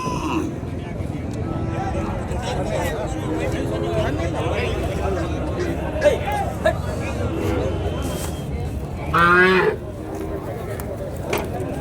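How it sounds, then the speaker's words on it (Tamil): Cattle at the Matrapalli cattle market, with one low drawn-out moo rising briefly near the end over a constant crowd hubbub and nearby people talking. "திருப்பதி அண்ணாவோட காளையாக இதுவும் பார்த்தீங்கன்னா ஜோடி எப்படி இருக்கு பாருங்கள்"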